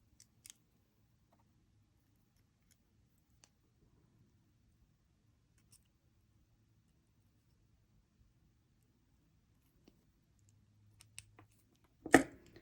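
Jewelry wire for a beaded pendant is snipped once near the end, a sharp close click after a long near-silent stretch of faint handling ticks.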